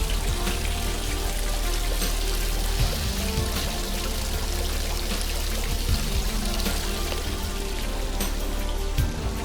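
An indoor water fountain in a nearly empty shopping mall, pouring and splashing in a loud, continuous rush that holds steady throughout with no talk.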